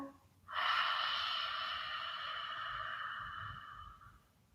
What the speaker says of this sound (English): we're going to make the exhale or the breathing out really, really long